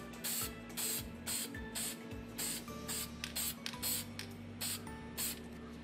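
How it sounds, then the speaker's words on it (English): Quiet repeated bursts of matte aerosol fixative hiss onto a drawing in short pulses, roughly a dozen sprays separated by brief pauses. "I'm gonna spray it again."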